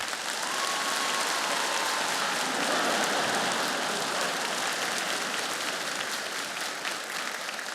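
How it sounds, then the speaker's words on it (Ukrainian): Loud, continuous audience applause fills a comedy league stage show, steady and dense from start to finish with no speech over it. "давайте підтримайте оплесками"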